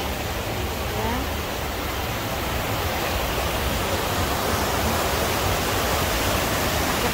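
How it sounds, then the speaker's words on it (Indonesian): River water at a spring-fed bathing place flows as a steady, continuous broadband rush that stays even in loudness throughout, with no distinct events standing out. "Ah, ini sebenarnya sungai ya"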